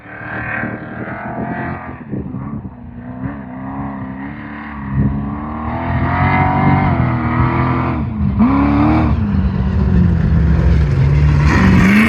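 Big race trucks in a Nevada desert off-road race roar past one after another, engines droning and revving loudly with rising and falling pitch as they approach and go by, building to a heavy close pass near the end.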